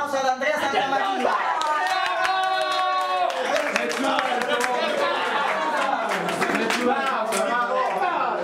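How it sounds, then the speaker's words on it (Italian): Applause at a birthday party for Andrea Santamaria, dense clapping filling the room alongside loud cheering, whoops and crowd voices, with music or singing carrying through the noise. "un applauso ad Andrea Santamaria"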